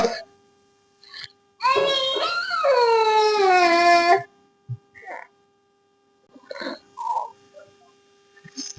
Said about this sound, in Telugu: కుక్క